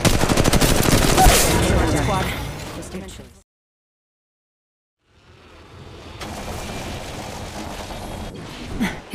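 Rapid automatic gunfire bursts from an Apex Legends Mobile match, loud and dense, cutting out to a brief silence before more shooting resumes, sporadic pops continuing to the end.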